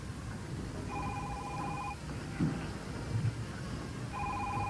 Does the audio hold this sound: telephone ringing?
yes